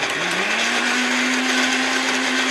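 A blender runs steadily, grinding ginger with a little water into a paste, its motor pitch rising briefly at the start and then holding a loud, even whine throughout with no talk.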